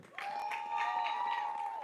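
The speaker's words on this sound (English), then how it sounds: "Douglas showing a sign of respect by clapping and cheering for their opponents" A Little League seniors all-star team claps and cheers for its opponents at a state championship, with a steady patter of hand claps under a sustained whistle-like tone, moderately close.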